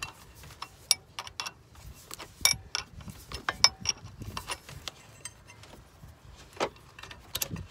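A 17mm socket ratchet working bolts loose on a 2.4 Ecotec engine, irregular bursts of quick clicking pawl ticks and metallic taps, close and sparse.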